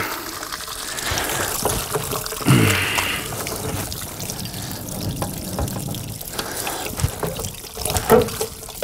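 Rainwater trickling and dribbling steadily off the roof of an aluminum enclosed car trailer nearby, with a few louder splashy pours and faint handling noises mixed in.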